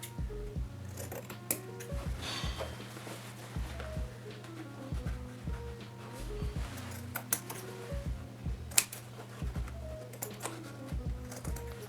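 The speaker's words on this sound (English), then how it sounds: "I am going to trim off this excess fabric." Scissors trimming excess fabric from a pair of pants, repeated crisp snips in an uneven rhythm, close and clear, with faint handling rustles between cuts and no talking.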